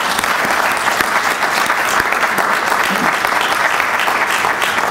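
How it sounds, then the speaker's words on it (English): Sustained, dense applause from a lecture audience fills the room evenly and loudly, with no break, no clear voices and a faint murmur of crowd noise under the clapping. "let's one more round of applause for Mr."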